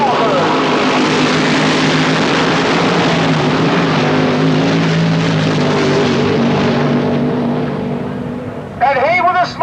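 A vintage AA fuel dragster named Pure Heaven roars loudly and steadily down a quarter-mile drag strip at a 1990 Palmdale raceway reunion, the sound holding then fading, with an announcer talking near the end.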